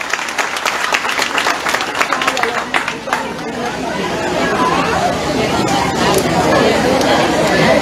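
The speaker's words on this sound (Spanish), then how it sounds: "Fuerte ese aplauso para estos pequeños" An audience applauds children at an outdoor civic ceremony in Cabañas, Copán, on 13 September, with loud sustained clapping and crowd chatter that swell into a dense wash of applause.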